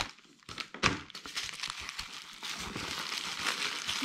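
A bubble envelope and a small bag being opened by hand, with close, busy crinkling and crumpling of plastic and paper plus short tearing bursts that continue throughout.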